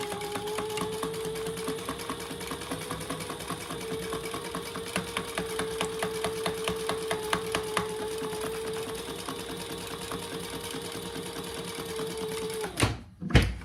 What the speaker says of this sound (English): And we're going to sew that at a seam allowance that she talks about.